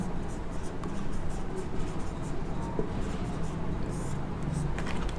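Marker or chalk scratches on a board during a soil pollution lesson for a seventh-grade biology class, a soft continuous scraping over a low room hum.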